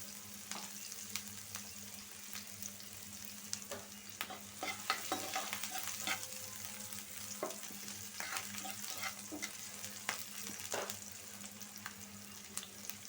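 Onions fry in oil in a pan for a home-style fried dish, a constant soft sizzle broken by scattered scraping stirs and clinks of a spatula, close and fairly quiet, with no talking.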